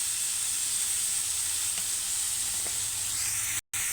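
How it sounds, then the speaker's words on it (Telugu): Chopped onions fry in a pan with a dense, steady sizzle and hiss, plus faint scrapes as they are stirred, heard up close with no talking until a brief cut near the end. "ఆనియన్స్ వేసుకోవాలి. వేసి ఒకసారి పెట్టి కలుపుకోవాలి."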